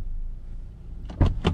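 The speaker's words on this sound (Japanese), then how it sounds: "ドア閉めた音聞いてみましょうかね" The door of a 2019 Toyota RAV4 G swings shut from inside the car with its window closed. Two quick, solid metallic thuds sound close by, the second slightly softer, after a quiet interior hush.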